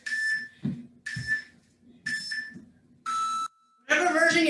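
A workout interval timer beeps in a sequence of four evenly spaced loud tones followed by a longer, harsher final signal, with faint sounds of movement between.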